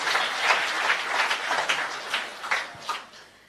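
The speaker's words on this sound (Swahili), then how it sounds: "Pigieni watoto wetu makofi." A church congregation applauds the children with a dense wash of clapping that swells and pulses for a few seconds, then begins to fade.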